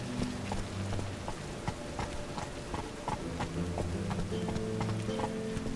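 Roach the horse trotting in The Witcher 3, with steady, close hoof clip-clops over a soft patter like rain and a faint background tone.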